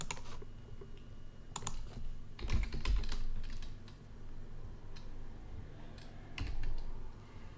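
Typing on a computer keyboard, quick irregular bursts of clicky keystrokes close by, with several heavier thumps and short pauses between runs of keys, and no voices.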